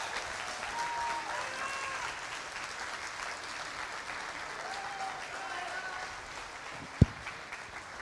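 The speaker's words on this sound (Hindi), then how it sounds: "हम सब खड़े होके बहुत ज़ोर से ताली बजाएंगे." An audience at an evening event at the Arts Council rises for a standing ovation, applause heard as a faint, distant wash of clapping that carries on steadily, with a single sharp knock near the end.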